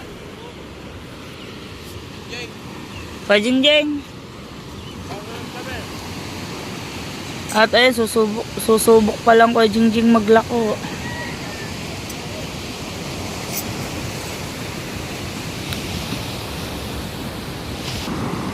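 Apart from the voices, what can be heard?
ocean waves breaking on the shore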